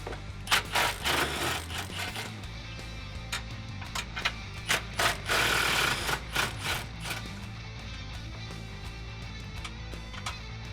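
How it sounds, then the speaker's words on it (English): Ratchet with an 18mm socket, universal joint and extension loosening frame rail nuts on a Jeep Wrangler JL, giving bursts of rapid clicking and metallic rattling at close range with short pauses between. "So let's take an 18mm socket with a universal and extension and remove these nuts."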